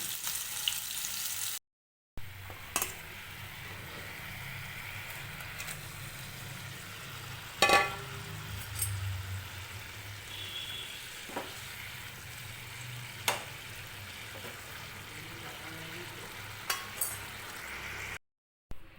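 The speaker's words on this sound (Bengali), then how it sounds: "ভেজে নেব" Food sizzles steadily as it fries in a pan, a continuous close crackle with occasional clinks and stirring knocks, and no talking.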